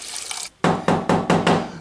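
Premade broth mixed with about 200 millilitres of water is poured into a yellow chicken soup pot, heard as a loud close splash followed by several gurgling glugs in quick rhythm.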